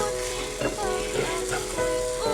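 Eggplant omelette (tortang talong) fries in an oiled pan with a steady, close, crackling sizzle, broken by occasional soft stirring or spatula movements.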